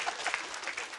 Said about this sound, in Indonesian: Wah, tepuk tangan.